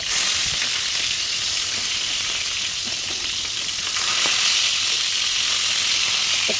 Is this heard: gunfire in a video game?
no